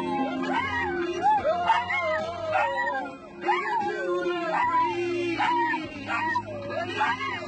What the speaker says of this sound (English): Despite best efforts, dogs aren't known to be naturally talented singers.